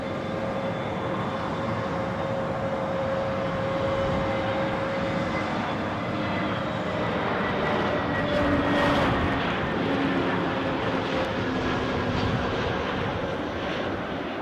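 An Airbus A320neo at Edinburgh airport, a sustained loud jet engine roar with whining tones that swell slightly midway, heard from nearby without talk.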